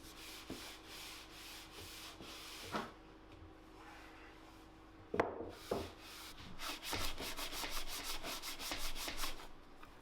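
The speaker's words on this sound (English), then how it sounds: "then I come back with a microfiber cloth and buff it all off" A microfiber cloth buffs badger wax off a wooden camera display shelf, soft continuous rubbing strokes close by, with a few knocks and quicker back-and-forth swipes toward the end.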